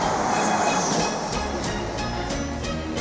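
A train runs at speed with a loud, continuous rumble and a regular rhythmic clatter of wheels over rail joints.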